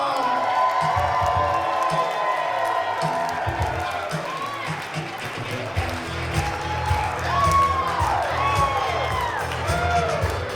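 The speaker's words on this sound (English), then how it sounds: "more round of applause for our next set of people walking in the room" Wedding reception guests clapping, cheering and whooping as family members walk into the room, a lively crowd roar with scattered shouts and whistles rising and falling beneath and around voices.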